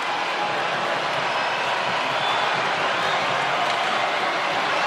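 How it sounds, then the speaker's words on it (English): Steady crowd roar fills a basketball arena during free throws at a VCU at Richmond college game in 2023, a dense, continuous wash of many voices without pause. "That's why the crowd may come to life here."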